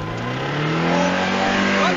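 A car engine revs and climbs in pitch as a learner driver presses the accelerator, a steady rising drone throughout, with a voice heard over it.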